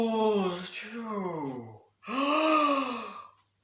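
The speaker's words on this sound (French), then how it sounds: "Une dernière inspiration." A slow, deep breath in during a relaxation session, followed by a long, audible exhale. Both are close and soft, heard alone, with a short pause between them.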